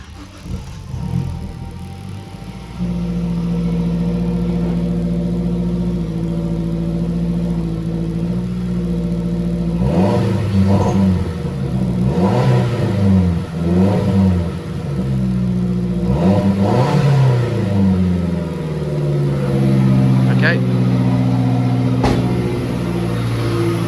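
A Mazdaspeed 3 engine just after a serpentine belt replacement cranks, catches and runs rough, its idle loud and steady with uneven surging revs and stumbling misfires through the middle before settling.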